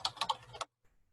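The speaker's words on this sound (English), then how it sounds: "we type in Rotten Tomatoes movies" Several quick keystrokes on a computer keyboard, close and crisp, a short burst of about five clicks followed by near silence.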